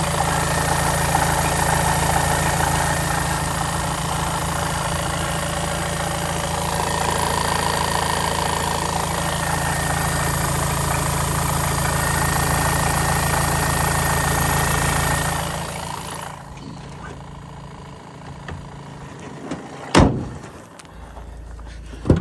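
A 2020 Volkswagen Crafter van engine idles steadily and close for a while, then shuts off, leaving quiet broken by a single sharp knock.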